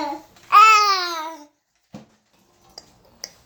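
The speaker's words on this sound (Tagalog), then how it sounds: "Ang ingay ng bata na yan ah." A hungry small child babbles loudly at home while a pot of pochero stew cooks, one long sing-song burst of voice followed by a few faint clicks and taps.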